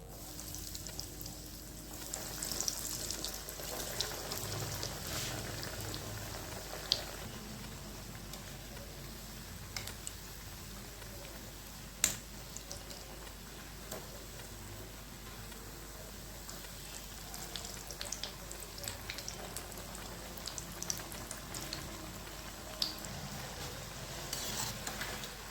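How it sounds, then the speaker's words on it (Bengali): Vegetable chops frying in hot oil, a steady soft sizzle with faint crackles and occasional small pops throughout, moderately close, with no talking. "আমি আর একবার ভেজে দেখাচ্ছি।"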